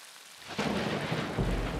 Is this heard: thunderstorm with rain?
yes